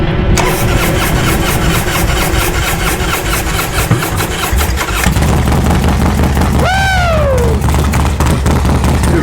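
A freshly rebuilt 98-inch Twin Cam motorcycle engine cranks, fires and settles into a loud, steady lumpy idle, then a brief rev rises and falls near the end, close and dominant with no talk.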